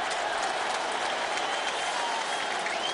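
A stadium crowd at an NFL game between the Cincinnati Bengals and Cleveland Browns in Cleveland roars with steady, dense cheering and applause, loud and sustained without a break.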